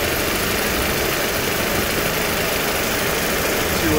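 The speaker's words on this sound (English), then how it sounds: "engine's running nice and smooth" A 2008 Audi A4 engine with a coolant leak from a suspected water pump idles smoothly, a steady close hum and vibration holding even throughout.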